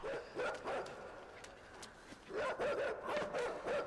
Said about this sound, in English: Oh wait, the dog is kind of stupid.